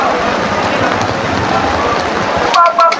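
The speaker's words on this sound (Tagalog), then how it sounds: "ulan na ulan dito po" Steady, heavy rain hisses and patters close by, with a brief clatter of something near the end.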